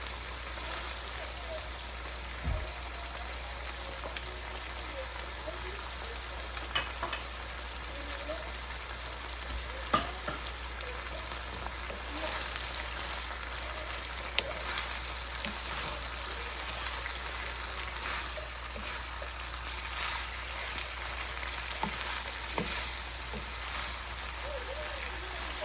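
Shrimps for pancit canton stir-fry in a pan, a faint, even sizzle like light rain, with occasional soft clicks of a utensil running steadily throughout.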